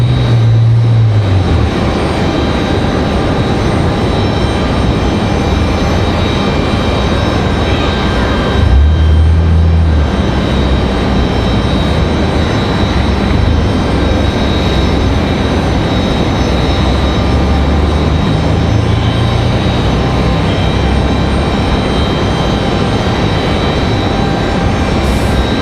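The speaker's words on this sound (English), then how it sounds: "So now the 757 out" Boeing 757 jet departing Raleigh Durham airport, a loud continuous roar of engines filling the whole stretch with steady broadband rumble and faint whine, no talk.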